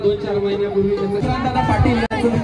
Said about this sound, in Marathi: इकडे मम्मी जवळ गर्दी झाली बघा.